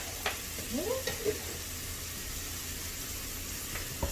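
Onions sizzling in a pan during preparation of an egg malai kofta curry, with a steady frying hiss and a few brief stirring scrapes near the start, no talking.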